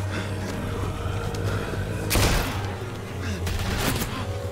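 Gunfire in The Walking Dead: A New Frontier, a few sharp bursts of shots at close range over a rumbling game background, with voices talking.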